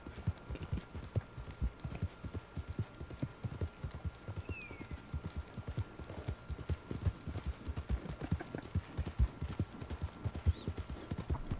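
Hooves of a mare in a video game clip-clop at a steady trot, a quick unbroken rhythm of hoof hits that runs throughout at moderate loudness.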